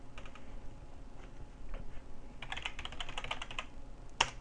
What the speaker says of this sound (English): we'll just type in some gibberish